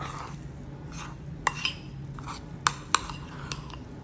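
Homemade bread dough is mixed by hand in a bowl, with soft stirring and several sharp clinks of a utensil against the bowl, close and intermittent.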